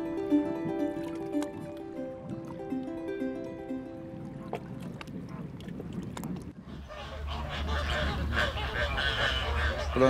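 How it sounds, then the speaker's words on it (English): Flamingos feeding in a lagoon give a chorus of nasal, goose-like honks, faint and scattered at first and then swelling into a denser, closer clamor. "That sound is the flamingos."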